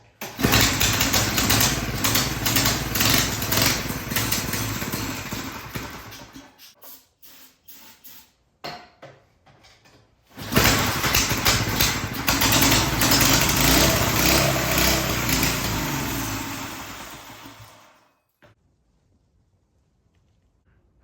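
A Tecumseh 6HP small engine on a Monster Moto minibike, unrun since 2021 and leaking slightly at the carburetor, roars loudly and close, cuts out, restarts with a rough sputter, runs hard again, then dies into silence.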